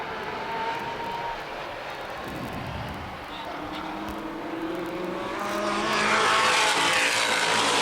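NAPA late model race cars roar around Baer Field Speedway, a loud continuous engine drone that swells as the pack passes nearby, with a commentator talking over the noise.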